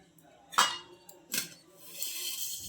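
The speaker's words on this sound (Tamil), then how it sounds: "சாப்பாடு வைக்க பானையை நல்லா கழுவி எடுத்துக்கலாம்" A cooking pot being washed before boiling millet rice, with a couple of clanking metal knocks followed by a swishing, splashing rinse, close and fairly loud.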